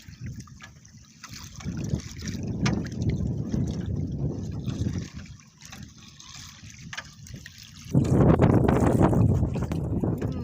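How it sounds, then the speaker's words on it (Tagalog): Strong wind gusts buffet the surroundings with a rushing roar, easing briefly before a louder blast near the end, along with faint watery splashing. "Malakas naman ang hangin."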